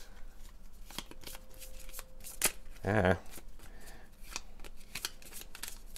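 Tainted Grail game cards being shuffled by hand, a soft papery riffle with scattered clicks, a brief louder burst of card noise midway, and a short spoken word near the end.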